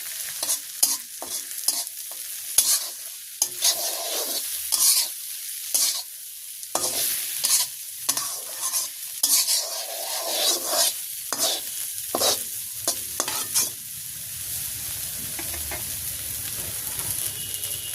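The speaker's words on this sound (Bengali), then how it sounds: "পেঁয়াজটা ভাজি ভাজি হয়ে গেছে, আমি এখন মিশিয়ে দেবো।" Fried onions being stirred in a pan during village-style cooking, with repeated scraping strokes over a steady close sizzle and no talk.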